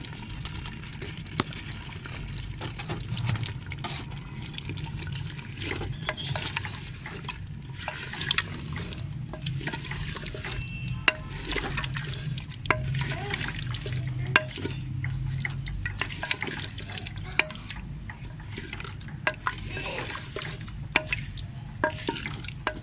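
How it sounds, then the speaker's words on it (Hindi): Round-cut potato slices frying in masala over medium heat, a steady close hiss with frequent scrapes and clicks of a spoon stirring through the pan, continuous for the whole stretch. "अब इसी मसाले में हम इनको फ्राई कर लेंगे, भून लेंगे।"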